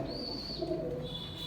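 A pet pigeon gives a faint, brief low coo, barely above the quiet outdoor background.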